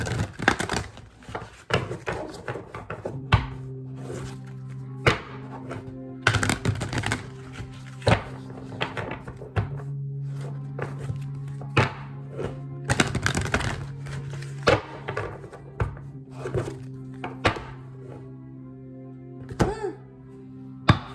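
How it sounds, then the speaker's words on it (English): Tarot cards riffled and tapped together in bursts, with soft thuds and flicks scattered over a low steady hum, close up. "I'm going to shuffle it so the energies are fresh."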